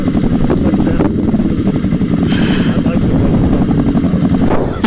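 A Kawasaki Ninja 650 motorcycle ridden through city streets gives a loud, continuous engine roar with throttle surges and a brief whoosh midway, close to the listener.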